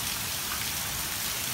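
Heavy rain at night in southeast Houston during Hurricane Harvey, a dense, constant hiss of pouring water with no letup, loud and close, with no voices.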